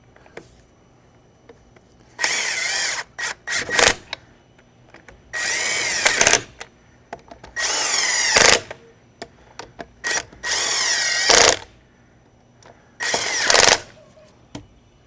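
A power tool drives lug nuts snug on a trailer wheel after a broken wheel stud is replaced and new tires are fitted. Five loud whirring bursts of about a second or two each come close up, separated by short pauses.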